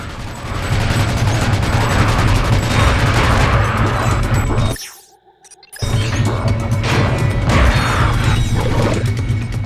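A loud, dense explosion from the video game Ratchet: Deadlocked in a swamp level, a sustained roaring blast with crackling debris that cuts to brief near-silence, then resumes at full, booming volume.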